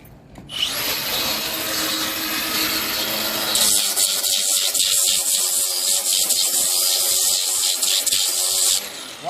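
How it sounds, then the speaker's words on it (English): A grinder touches up a swimming pool surface during a pool wash job, running as a loud, steady abrasive whine that starts after a brief quiet lead-in and holds nearly the whole time. "we're going to take our grinder and we're going to touch it up"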